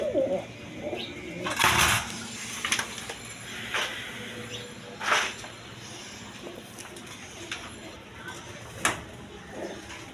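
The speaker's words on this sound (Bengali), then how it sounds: "দর্শকবৃন্দ এখানে এক পেয়ার বোম্বাই কবুতর আছে, ইন্ডিয়ান বোম্বাই।" Indian Bombay pigeons coo in soft, low murmurs at close range, with occasional brief bursts of wing or handling noise and a faint background hum.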